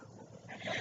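A puppy gives a brief, faint whimper up close, a thin whine that rises toward its end within less than a second, with no talking over it.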